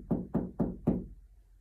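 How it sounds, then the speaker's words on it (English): Four firm knocks on a door in an even, quick rhythm, close and clear, then silence. "he had a knock that came at the door."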